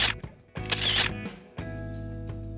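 A camera shutter clicks a few times as someone snaps a selfie with a person in a Spider-Man costume, with short sharp clicks over a low steady hum and some faint background sound.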